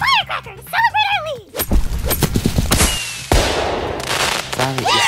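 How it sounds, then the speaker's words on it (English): Cartoon firecrackers set off in an animated show, a burst of sharp crackling pops and a loud bang, with cartoon voices talking before and after. "Let's go with the firecrackers! Celebrate early!"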